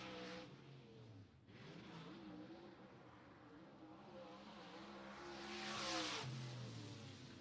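Number 81 dirt late model race car on a hot lap around Tyler County's dirt track, its engine droning steadily from a distance and swelling louder as it passes nearer toward the end.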